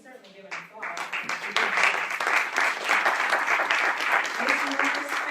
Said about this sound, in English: You can certainly give an applause.